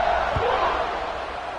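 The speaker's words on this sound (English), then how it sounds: "this crowd is buzzing after that last score" Stadium crowd in an American football video game, a loud, continuous buzz of cheering and murmuring that swells briefly with a low thump near the start, then eases slightly.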